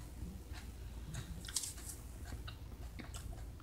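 Someone bites into and chews a crunchy yellow pepper up close, with a steady run of wet crunches and squishy chewing at low volume.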